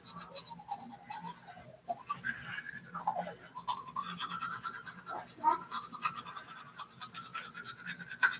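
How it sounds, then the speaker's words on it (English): Teeth being brushed with a toothbrush and toothpaste during a morning routine: steady, close scrubbing strokes in a quick rhythm that run throughout, with faint speech underneath. "I'm gonna get my toothpaste wet, and I'm gonna brush my teeth."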